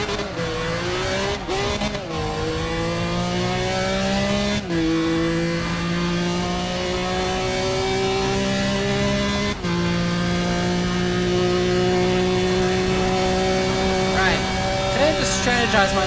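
Pagani Zonda race car engine in Need for Speed ProStreet drones steadily at high revs, with rising and falling pitch through gear shifts across the whole stretch, loud and continuous, with a voice talking over it.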